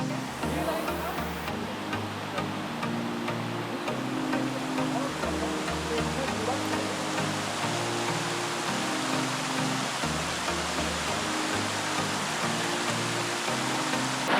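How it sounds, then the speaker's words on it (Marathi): A small waterfall on the Kodachadri trek in the Western Ghats of Karnataka produces a constant, dense rushing hiss of falling water that stays even and fairly close throughout. "छोटासा वॉटरफॉल लागलाय थोडा आहे वॉटरफॉल आहे"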